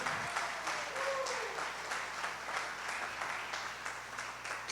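A church congregation applauds steadily, a dense wash of clapping with faint voices mixed in, heard from some distance in a large room.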